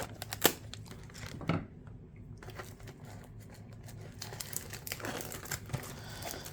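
A plastic wrapper on a 2022 WWE NXT 2.0 trading card blaster is torn and crinkled open up close, with sharp crackles and rustling bursts amid quieter handling noise.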